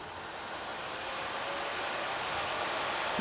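Steady, loud broadband whoosh of a laptop cooling pad fan running continuously at high speed, a constant airy rush with no breaks.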